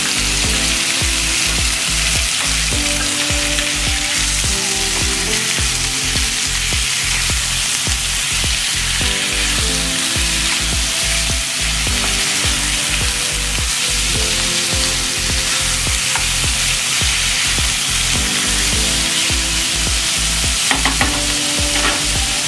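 Marinated chicken frying in a hot pan, with a steady loud sizzle throughout and rhythmic scraping of a spatula or spoon stirring, repeated strokes running for the whole stretch with no talking.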